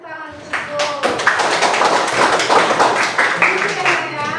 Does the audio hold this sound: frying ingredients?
no